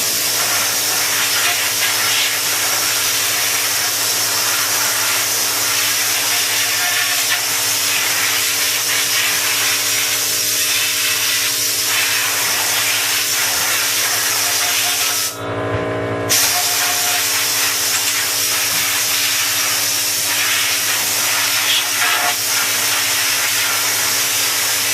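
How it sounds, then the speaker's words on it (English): HVLP spray gun spraying paint onto a hanging Schwinn Chicago bicycle frame; a loud, steady hiss runs close and continuous, with one brief pause partway through, and no talk. "And then I just spray her down."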